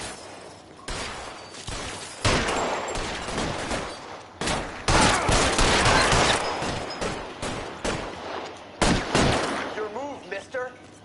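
A shootout in the video game LA Noire brings repeated loud volleys of gunfire, heavy overlapping shots arriving in clusters with brief pauses between them.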